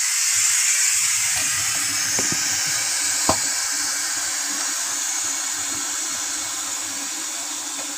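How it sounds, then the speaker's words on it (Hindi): Steam hisses continuously and loudly from a home pressure cooker as gas is let out after its whistles, with a faint clink partway through. "सीटी तो पूरी आ चुकी है कुकर के अंदर। और मैं ना इसका थोड़ा सा गैस निकाल देती हूँ"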